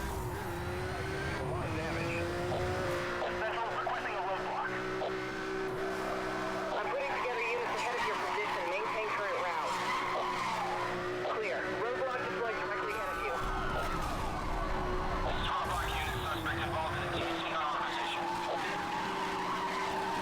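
Porsche Panamera Turbo engine roaring steadily in the racing video game Need for Speed Hot Pursuit Remastered, a continuous loud drone with tire skids and sirens over it, and a voice talking at times.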